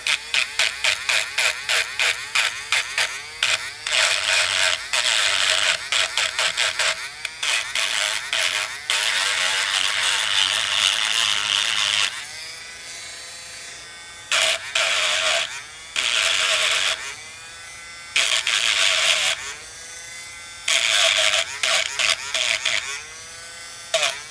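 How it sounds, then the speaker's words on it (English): A Dremel rotary tool works on a broken Monica of Hollywood doll at low speed, its high whine running in long close bursts with brief pauses and slight pitch changes as the speed setting is adjusted. "So I've got my Dremel down to a 3. I might put it down to, let's just try a 2. A little bit more gentler."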